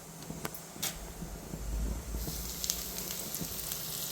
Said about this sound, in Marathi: तर आपण याचे फ्राय करूया.